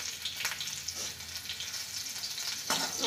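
Green chillies crackle and sizzle steadily in hot oil with bloomed cumin seeds for sabudana usal, a close, continuous frying hiss with sharper spits near the start and end.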